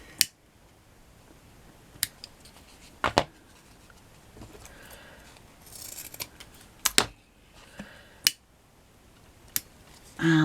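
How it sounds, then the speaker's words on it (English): Scissors snip through small fabric pieces for a handmade flower patch, giving sparse, sharp clicks spaced a second or two apart against a quiet room. "You just carefully cut them."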